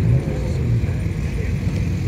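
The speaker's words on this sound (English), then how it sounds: "It's an old school Ferrari pulling in." A classic Ferrari rolls in at a Malibu cars-and-coffee meet, its engine a steady low rumble close by, a broad continuous drone with a little outdoor crowd noise mixed in.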